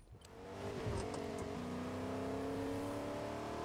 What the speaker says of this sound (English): Oh, there's a car up here.